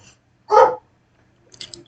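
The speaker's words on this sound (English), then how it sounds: "I hope my dog is not keeping you from hearing this." A dog barks once nearby, a loud short burst, then gives a fainter second bark or yip about a second later in an otherwise quiet room.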